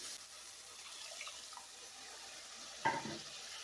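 Water running and splashing into a cooking pan of egg gravy over a steady hiss, ending with a brief louder clatter near the end.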